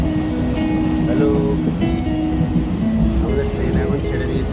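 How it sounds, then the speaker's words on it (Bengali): A passenger train pulls slowly out of a station toward Naihati, a loud steady rumble and rolling drone of the cars with faint squealing tones running throughout. "ট্রেন এখন চলেছে ধীরে ধীরে নৈহাটির দিকে"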